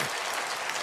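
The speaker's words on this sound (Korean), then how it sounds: "여러분 이 하나님께 영광의 박수 한번 올리십시다." A church congregation claps in praise during a sermon, a brief dense burst of many hands at moderate distance.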